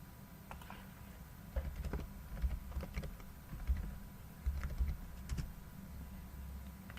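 An IP address typed on a computer keyboard, a quiet close run of soft key taps in short irregular bursts with brief pauses between them.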